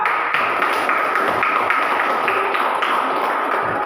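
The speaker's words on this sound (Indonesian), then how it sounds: "Mari kita tepuk tangan untuk kelompok 2" A classroom of students applauds group 2 after their presentation, a dense steady patter of many hands clapping together, loud and continuous throughout with no talk over it.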